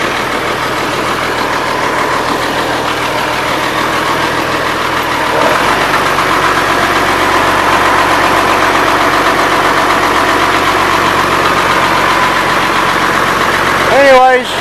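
A diesel engine idles steadily after a cold start, a loud, even rumble that holds throughout, with a brief rising whine near the end.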